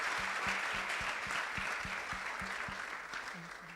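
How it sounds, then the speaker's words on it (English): An audience at a Girls in ICT event applauds the facilitators and speakers, a sustained wash of many hands clapping that fades slightly toward the end, with no voices. "Let's give them a round of applause."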